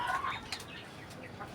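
Sonali and Giriraja chickens cluck softly nearby, a few brief calls over a quiet background.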